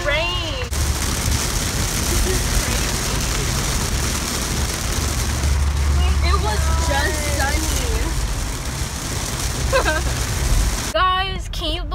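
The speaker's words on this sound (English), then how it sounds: "Look at the rain." Rain falls outside in Texas with a steady, loud hiss and patter close by, while faint chirps and background sounds come and go and a voice can be heard briefly.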